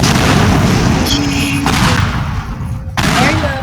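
A bomb detonates in the voxel destruction game Teardown, a loud dense rumbling blast with crackling debris that fills the whole stretch and dips briefly before surging again.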